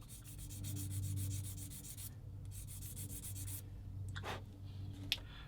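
A plastic part from a 1/35 scale model submarine kit is sanded with quiet, close, steady back-and-forth rubbing strokes that pause briefly and end with a small tap.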